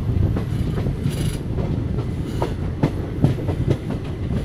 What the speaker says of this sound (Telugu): ట్రైన్ ఆల్రెడీ ప్లాట్ఫామ్ మీదకి అయితే వెళ్ళిపోయింది